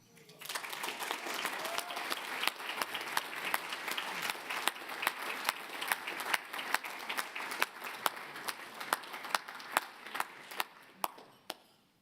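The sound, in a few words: audience applause for scholarship award winner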